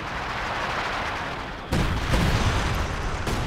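Artillery bombardment in Company of Heroes 2, a match pitting OKW and Wehrmacht against US and British forces, with a low rumbling barrage that jumps into a heavier burst of booming impacts and crackling fire partway through.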